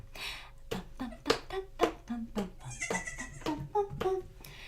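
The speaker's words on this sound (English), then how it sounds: "We gotta start with tiny baby goat. He is hungry." A hungry tiny baby goat bleats in a string of short, close cries, some overlapping a person talking nearby.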